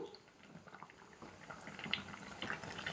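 Quiet bubbling of manathakkali keerai soup with coconut milk simmering in a pot, soft irregular pops and gurgles over a low steady hiss.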